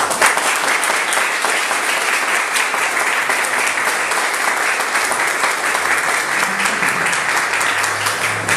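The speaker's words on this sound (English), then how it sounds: "he deserves a great hand of applause for what he's done today" An audience at an art exhibit event in New Orleans gives a sustained, even round of applause, dense and steady throughout, with a low voice briefly murmuring near the end.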